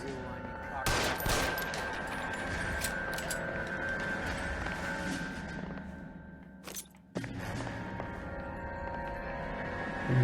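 Gunfire during a shootout in the video game L.A. Noire, a long dense fusillade of rapid shots with a steady electronic hum underneath, loud and close, a brief lull near the end before the noise returns.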